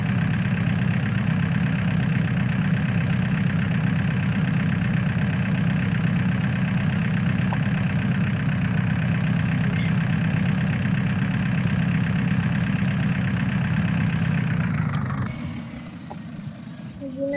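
A tractor engine idles in Farming Simulator 2015 as a steady, loud low rumble that runs unbroken and then drops away near the end, with people talking quietly over it.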